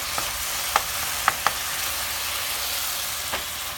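Garbanzo bean curry masala with dry fenugreek leaves cooking in oil, a steady soft sizzle with a few quick stirring clicks of the utensil near the start, close and fairly quiet.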